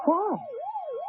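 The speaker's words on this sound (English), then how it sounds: "The police car, I should imagine. Seems to be coming this way." A police car siren wails in a radio drama scene, a single sweeping tone rising and falling, fairly close and clear, with a brief spoken word at the start.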